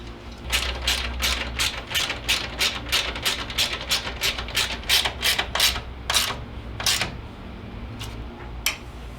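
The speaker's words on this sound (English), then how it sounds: "Return the two bolts, 8mm socket." A ratchet with an 8mm socket tightens radiator bolts on an 89-01 Jeep Cherokee XJ, making a fast run of about twenty crisp, close clicks that slow to a few final strokes.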